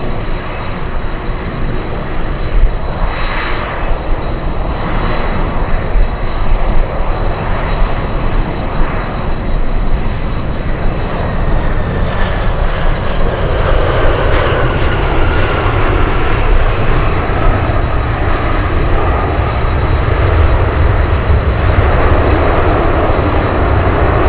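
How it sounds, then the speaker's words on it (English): Alaska Airlines flight 9662 arriving at Anchorage after a roughly 600 nautical mile trip from Deadhorse, its engines a steady, loud roar that holds evenly and swells slightly in the second half. "Alaska's 9662 flying in from Dehors, Alaska."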